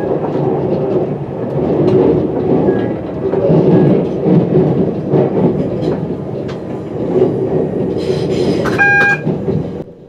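A train rolls along London rail lines, heard from the driver's cab with a heavy rumbling drone and rhythmic clattering over the track. Near the end a brief high tone sounds.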